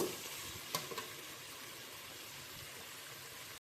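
Onion and tomato fry in a pan for a fish curry, giving a soft, steady sizzle with a couple of light clicks before it cuts off abruptly.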